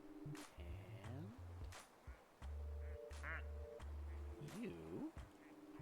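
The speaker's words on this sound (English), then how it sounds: "Just a bunch of good little floating ducks." Ducks quacking in the game En Garde!, a string of loud, nasal quacks in an irregular sequence, several close together near the start and more scattered later, over a faint buzzing background.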